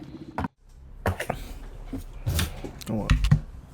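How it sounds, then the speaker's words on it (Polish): A computer keyboard clatters in scattered bursts of keystrokes during a Dead by Daylight session, mixed with people talking nearby. "Ten, klawiatura."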